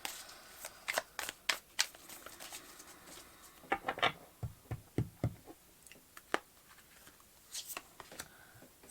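Tarot cards are shuffled and drawn at close range, with crisp riffling slaps and flicks in irregular bursts, followed by a few softer taps as cards are laid down.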